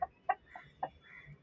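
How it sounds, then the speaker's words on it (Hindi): A backyard hen clucks in a few short, sharp bursts spaced irregularly, close by and fairly clear over quiet surroundings. "आपको पता है हम लोग की मुर्गी"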